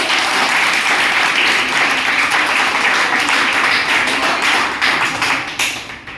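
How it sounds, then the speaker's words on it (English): A classroom of students applauds the winning team in a dense, steady burst of clapping that holds for several seconds before thinning out and fading at the end. "So clap it."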